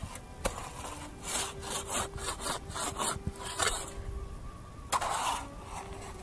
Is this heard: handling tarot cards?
no